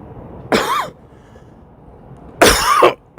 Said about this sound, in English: I'm sorry about the cough, man